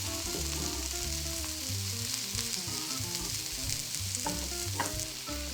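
Burger patties fry in a pan, giving a steady close sizzle and crackle that holds at an even level throughout, with faint stirring or scraping underneath.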